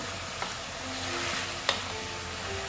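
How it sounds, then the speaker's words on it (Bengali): Bottle gourd greens (lau shak) with turmeric being stirred in a hot pan, a steady sizzle with a couple of sharp scraping clicks of the spatula, close and alone. "দিয়ে আমি শাকটা একটু নেড়ে চেড়ে নেব"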